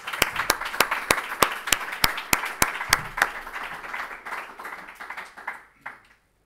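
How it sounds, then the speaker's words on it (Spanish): Applause from the audience at the close of a textile-sector session of a circular economy summit, a dozen or so crisp, evenly spaced claps at first that thin into scattered clapping before fading out. "Bueno, un aplauso."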